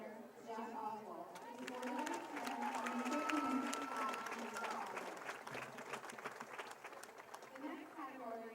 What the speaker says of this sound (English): Please give a big round of applause for our winner, Jack Oswald